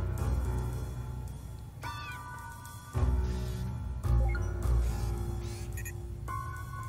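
Cat meowing in the video game Impostor Factory, several short mews spread over a steady bed of game music and ambience, moderately loud and with no talking.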